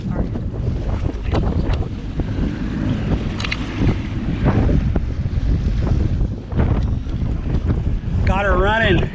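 An outboard boat motor runs steadily on the water on a first outing, a loud continuous drone under heavy wind noise on the microphone, while people talk over it.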